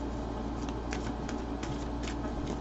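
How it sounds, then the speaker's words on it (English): Tarot cards shuffled by hand, a string of soft, crisp riffling flicks at a loose rhythm, close up over a steady hiss. "I'm just going to keep on shuffling."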